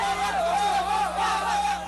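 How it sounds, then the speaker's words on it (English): A crowd in Benghazi chanting and cheering Allah Akbar, a sustained wavering mass of raised voices blending into a steady roar throughout. "the crowd is relieved, cheering, Allah Akbar, God is great."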